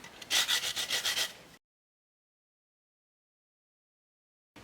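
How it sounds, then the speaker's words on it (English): Lemon rind is rubbed quickly against a kitchen grater, making about eight close, rhythmic rasping strokes for a second and a half before the sound cuts to silence. "And grate the rind of the lemon."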